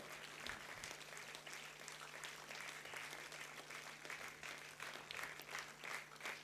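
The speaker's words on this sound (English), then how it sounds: "We need a bigger round of applause" Sustained audience applause at a university convocation for an award winner on stage, a dense, steady wash of many hands clapping at moderate distance with no voices over it.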